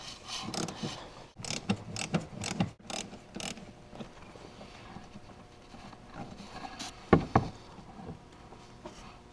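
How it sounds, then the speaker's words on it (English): A ratchet wrench clicks in uneven bursts while backing a cap screw out of a snowmobile's lower sprocket during track replacement, close up, with a few knocks and a louder metallic clank late on. "And remove this cap screw. From the the lower sprocket."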